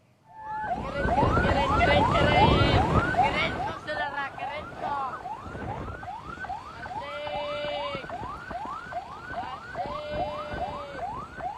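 An ambulance siren wails on a road in Makassar behind a motorcyclist, a loud, repeating rising and falling sweep close by. Traffic noise sits under it, and a second, steadier siren tone joins at times.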